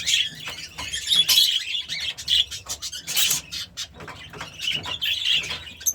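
Budgerigar parakeets in a breeder's aviary give busy, high chattering chirps and squawks in repeated bursts, close and lively, with occasional soft wing flutters and no talking over them.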